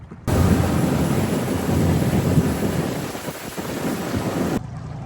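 A boat motor idles on a river, steady and close, blending with a broad rushing wash of water and wind that holds constant throughout.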